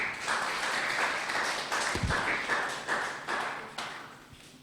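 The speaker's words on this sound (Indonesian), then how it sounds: "Berikan tepuk tangan buat Tuhan Yesus Kristus" A worship gathering's audience claps in brief, uneven bursts, moderate and somewhat distant, with a couple of sharper taps standing out.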